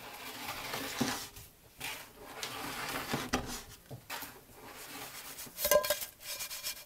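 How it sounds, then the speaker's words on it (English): A spatula scrapes wax off a snowboard in uneven broadband strokes, with several pauses between the close, moderately loud passes. "you can use the spatula to scrape the board"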